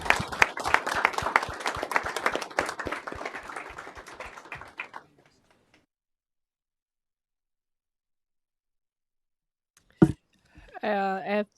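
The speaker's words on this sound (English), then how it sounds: "Let's give all of our students a big round of applause." A short round of applause for students at a school board of education meeting, a dense patter of claps that thins out and stops after about five seconds, followed by near silence and then a brief voice.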